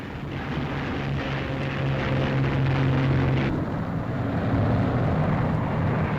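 Squadrons of wartime propeller aircraft take off from a runway, a broad, continuous engine drone with a steady hum that shifts midway as another group gets away, moderately loud and without voices.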